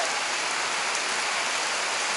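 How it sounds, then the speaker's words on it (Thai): Heavy rain falls in an even, unbroken wash of hiss, loud and close, with no talking. "มาเจอฝนตก"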